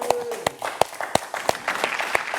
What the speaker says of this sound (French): Les gars, ça s'applaudit encore